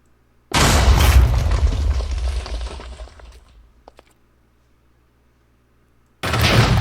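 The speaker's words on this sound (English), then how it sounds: "that's where the main explosion occurs" A loud, close explosion from a Demon Blood Art attack in the Minecraft Kimetsu no Yaiba mod: a heavy boom with crackling debris that fades over about three seconds, then a second blast bursts in near the end.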